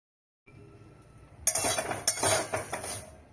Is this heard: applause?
no